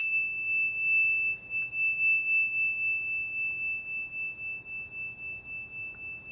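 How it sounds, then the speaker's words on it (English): A single bright, high metallic chime from Tibetan chimes rings out and sustains steadily, slowly fading over several seconds with nothing else around it. "the Tibetan chimes."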